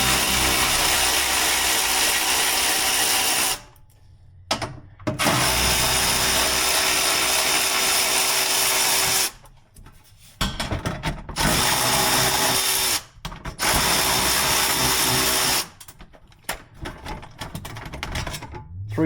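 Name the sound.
ratchet removing 10 mm bolts on Nissan Z oil hatch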